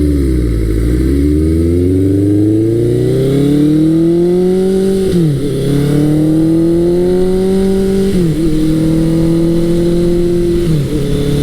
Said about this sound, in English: Bike's warming up now, pulling more cleanly, and just letting me enjoy the sound of that big 4-cylinder motor